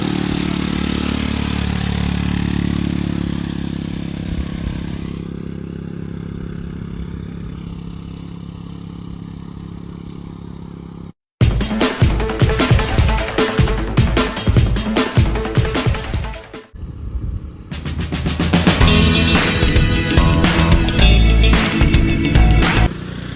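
An ATV engine runs with a steady idle, cuts out briefly, then roars back loud and close with rough, clattering revving that rises and dips, on a day trip to Dahanu.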